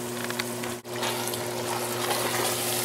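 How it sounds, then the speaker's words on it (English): Water poured into a glass jar of pasta sauce to rinse out the leftovers, a steady close splashing stream with a brief break partway, no talking. "so I'll pour some water, rinse it,"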